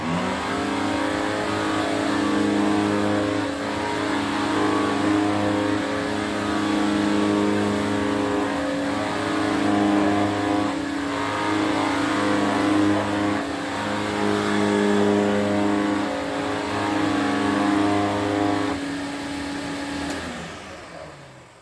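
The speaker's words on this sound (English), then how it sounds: "different sound when the beater or the brush roll hits the carpet" A 1975 Electrolux Z502 vacuum cleaner runs with its brush roll on carpet, a steady motor drone with layered humming tones and a beating brush sound, then winding down at the end.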